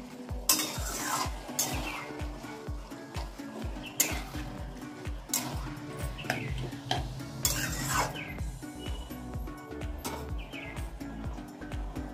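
Taro leaves (kochu shak) cook in plenty of oil in a pan, with a soft sizzle under rapid, rhythmic spoon-stirring strokes that continue throughout, close and moderately quiet.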